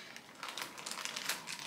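Plastic wrapping on a delivered hair-vendor package crinkles in short, close rustling bursts, quiet and without talk.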